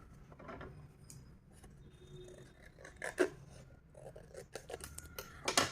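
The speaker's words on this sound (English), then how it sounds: "I'm going to snip this off as well" Scissors snip paper card for a journal, several short crisp cuts scattered across a quiet close background with faint handling noises.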